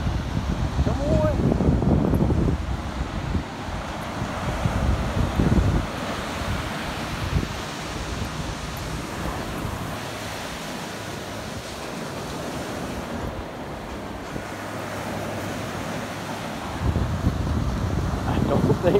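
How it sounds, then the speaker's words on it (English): Ocean waves breaking on a beach at Assateague Island, a loud continuous roar of surf with heavy wind buffeting the microphone, and voices talking over it at times. "I think Maggie likes the waves."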